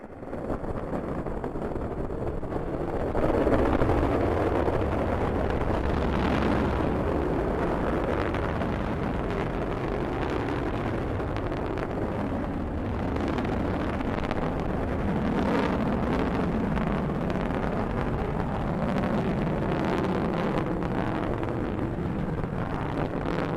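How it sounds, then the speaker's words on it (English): A Delta rocket carrying the GLAST gamma-ray telescope lifts off with a sustained, heavy roar and crackling rumble that stays loud and steady throughout, with no voices. "Liftoff of the Delta rocket carrying GLAST, a gamma-ray telescope searching for unseen physics in the stars of the galaxies."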